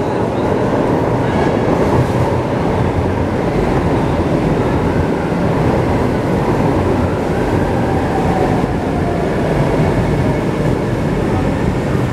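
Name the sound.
MRT train at a station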